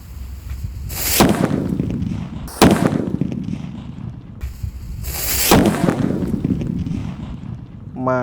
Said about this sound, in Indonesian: menyalakan mercon luar negeri. Di sini ada mercon sip warna kuning